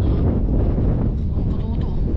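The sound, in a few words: strong wind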